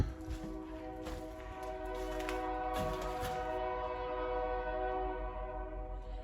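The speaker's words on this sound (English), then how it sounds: "that train is not being very cooperative" Train passing near an abandoned building, a sustained tonal horn-like drone with rumbling and clanking through the first half, fading toward the end; no one speaks.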